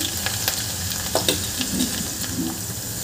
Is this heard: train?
no